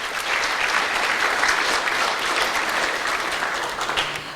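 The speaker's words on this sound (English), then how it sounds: "Can you give Mataji another round of applause?" Steady, dense round of applause from an audience at a Sunday Love Feast gathering, filling the space evenly for several seconds without a break.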